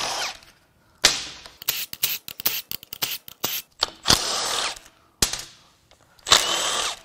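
A power tool spins bolts out of a Nissan Leaf electric drive motor unit during disassembly, firing in a rapid series of short, loud whirring bursts with brief gaps between them and a few longer runs, up close.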